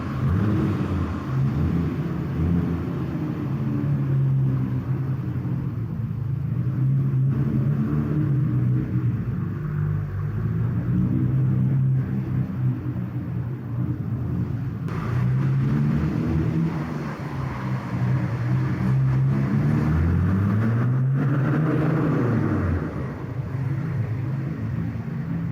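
A Nissan Skyline R32 GT-R drives on rainy back roads, its engine a loud, steady drone inside the car that rises and falls in pitch as it accelerates and shifts through gears.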